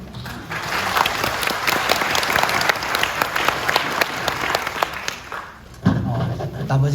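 An audience at a social welfare debate forum applauds steadily for several seconds, a dense, loud patter of clapping, then a louder thump and a short burst of murmuring near the end.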